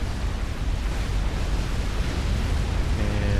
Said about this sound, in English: getting some nice volatile explosions